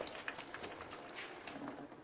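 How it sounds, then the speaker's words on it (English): Oil draining from a failed Johnson 9.9 HP outboard motor, a steady, faint trickling pour that runs on without a break and with no voices. "And oil is draining just fine so far"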